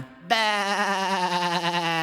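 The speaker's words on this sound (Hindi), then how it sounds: "वो एक भेड़ है।" A sheep in a children's nursery rhyme cartoon lets out one long, wavering bleat, loud and close, sustained for almost two seconds.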